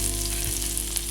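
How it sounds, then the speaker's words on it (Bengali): Dried red chillies and 5 to 6 crushed garlic cloves sizzle in hot oil in a pan, a steady close crackling hiss with no voices. "তেল গরম হয়ে গেছে, এর মধ্যে শুকনো লঙ্কা দিয়ে দেবো আর দিয়ে দেবো 5 থেকে 6টি রসুন থেতো করে রেখেছি"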